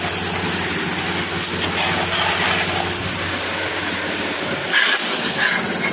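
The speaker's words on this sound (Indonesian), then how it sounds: "Kita lihat teman-teman cara saya menyemprot." High-pressure washer spraying a mud-caked motorcycle, a continuous loud hissing rush with steady motor drone underneath, close, shifting slightly as the jet moves across surfaces.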